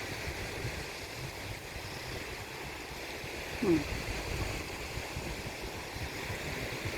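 Sea waves washing onto the beach at Wang Kaew, a steady broadband surf rush with a short murmur from a nearby voice partway through.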